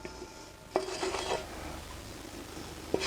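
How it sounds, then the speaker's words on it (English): Onions and peppers tipped onto meat in a pot and stirred for chilli con carne cooked by a woodfired oven: a sharp clink, then a second of scraping and rustling, a quieter stretch, and another clink at the end, with no talk. "So into my meat I can add these onions and peppers."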